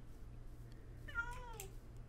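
A Minecraft cat gives a single soft, rising-then-falling meow over a low steady background hum, fairly quiet and alone.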